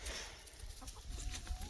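Backyard chickens cluck and murmur in soft, irregular bursts over a steady outdoor hum, fairly faint and a little distant, with no talking.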